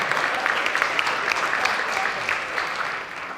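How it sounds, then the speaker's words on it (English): Concert audience at a high school spring band concert applauding the Woodwind Choir and two student conductors, a steady wash of many hands clapping close and fairly loud throughout. "one more round of applause for the Woodwind Choir and our two student conductors, Miss Galvin and Miss McMahon"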